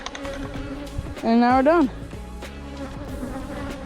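Honey bees swarm around an agitated hive, their buzzing a close, constant drone beneath brief speech, with one loud, rising insect whine passing right by the microphone midway.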